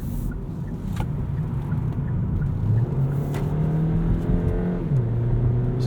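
Inside a 2018 Hyundai IONIQ Plug-in Hybrid prototype during a handling test drive, a loud, steady engine and road drone fills the cabin, its pitch rising and shifting as the car accelerates, with no talking.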